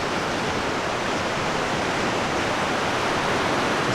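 A flash-flooded river roars through a rocky Colorado mountain canyon strewn with boulders, giving a steady, dense, full-band rush of churning water that stays constant and close throughout, with no voices.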